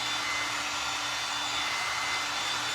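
A hair dryer runs steadily at close range, a constant loud whooshing hum with a faint motor whine and no pauses.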